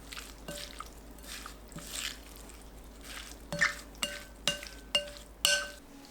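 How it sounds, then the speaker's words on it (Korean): Cockle bibimbap sauce is stirred together with onion, chili and scallion, a series of soft wet squishes and light clinks of a spoon against a bowl, growing sharper and more rhythmic toward the end. "양파, 고추, 쪽파 넣고 골고루 섞어줍니다"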